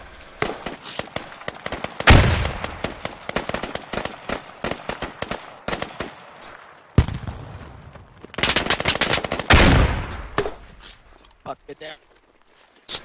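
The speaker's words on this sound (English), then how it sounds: "The freak is shooting at us." Gunfire in the video game Squad: sharp rifle shots and rapid automatic bursts crack repeatedly at varying distances, with one loud near blast and heavy volleys late on, while voices talk in between.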